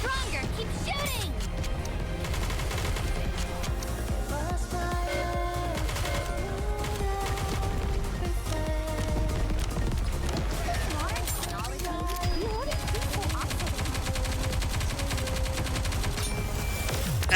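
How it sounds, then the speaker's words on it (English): Rapid gunfire and heavy bombardment from the Stellar Blade x Nikke event, sustained and loud throughout under music, with character voices shouting over the barrage. "Target locked. Commence bombardment. Faster, stronger. Keep shooting."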